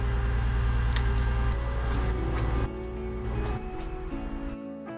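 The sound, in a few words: truck pumping water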